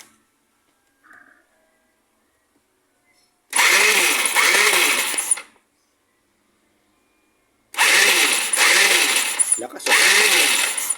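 A motorcycle fitted with a triple-electrode spark plug starts up and revs in two loud bursts, close by and buzzing, separated by a quiet pause with a faint earlier sound.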